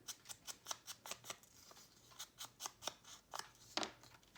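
Scissors snipping paper for a junk journal envelope, a quick series of crisp, close cuts in uneven rhythm, each clip sharp and distinct, with a brief pause midway and a louder final snip.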